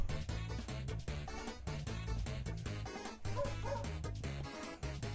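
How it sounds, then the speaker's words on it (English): A cartoonish dog sound effect from a Jackbox party video game yips and whimpers in short bursts over a rhythmic, bass-heavy game music loop. "Didn't even realise the dog sound effect."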